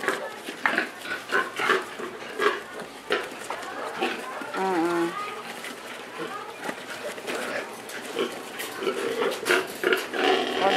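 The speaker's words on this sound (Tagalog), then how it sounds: "Si Randy nagpapaanak ng baboy." A pig in a farm pen grunts and squeals while giving birth, the animal noises mixed among people chatting nearby and scattered background clatter throughout.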